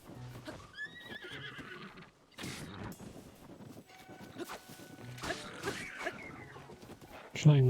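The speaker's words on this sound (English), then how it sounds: "Trying not to injure the horses." Horses in the game Zelda: Tears of the Kingdom whinny and neigh in several clear calls, with clip-clopping hooves and mechanical clatter between them, under occasional talk.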